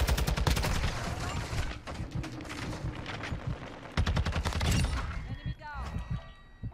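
Rapid automatic gunfire from Call of Duty: Modern Warfare 2 multiplayer gameplay comes in loud bursts with short pauses, followed by scattered shots and game effects, while a player talks over it.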